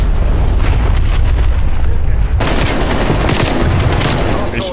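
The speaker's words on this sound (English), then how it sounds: "That dreadful shooting" Sustained barrage of gunfire and explosions in the shooter Call of Duty Black Ops Cold War, loud and dense throughout, swelling into heavier continuous firing partway through with faint voices mixed beneath.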